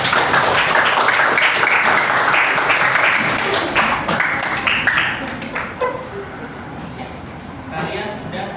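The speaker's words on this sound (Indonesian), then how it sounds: "Tepuk tangan untuk kelompok 2." A classroom group claps for a team of students returning to their seats after a presentation, a dense, loud patter of many hands that thins and fades toward the end, with voices murmuring underneath.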